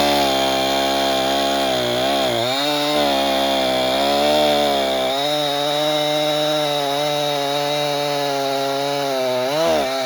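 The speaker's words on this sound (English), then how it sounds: "So we'll start with the Husky, and we'll just hit a couple different size pieces of wood" A Husqvarna 435 homeowner chainsaw runs loud and close, cutting through pieces of wood about ten inches across, its steady high engine whine dipping briefly as it bogs into the cut and then revving again.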